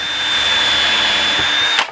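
A Stanley Fatmax cordless drill with a keyless chuck and a small bit bores a hole, running as a steady, close, loud whine for almost two seconds before cutting off abruptly.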